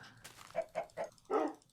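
A Minecraft dog gives a short run of quick barks, four yaps in under two seconds, the last one louder, clear against a quiet background.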